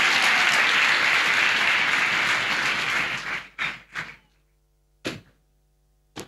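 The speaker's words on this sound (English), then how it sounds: "Clap, clap for Jesus Christ." A church congregation applauds loudly and steadily, then the clapping stops abruptly, followed by a few scattered single claps and thumps.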